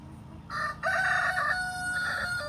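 A broody backyard hen gives drawn-out, moaning clucks close by, several sustained calls in a row with little else around.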